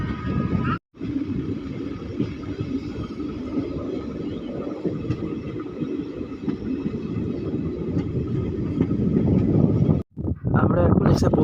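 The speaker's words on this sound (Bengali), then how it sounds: "আমাদের ট্রেন ছেড়ে দিয়েছে দেওতলা স্টেশন" From inside the Malda Town–Balurghat passenger special train pulling out of Deotala station, a steady loud rolling rumble of wheels and carriage fills the clip, broken by two brief gaps.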